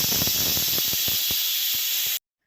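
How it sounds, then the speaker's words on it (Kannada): A pressure cooker on the stove releases a loud, continuous rush of hissing steam with faint rattling pulses, then cuts off abruptly into silence. "ನೆಕ್ಸ್ಟ್ ಇಲ್ಲಿ ಕುಕ್ಕರ್ ಸಹ ಕೂಗಿದೆ"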